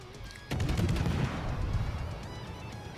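Warship guns fire in World of Warships, near the Soviet destroyer Khabarovsk: a sudden heavy blast breaks in after a quiet moment, followed by a rolling series of booming shots and rumbling reverberation that slowly fades.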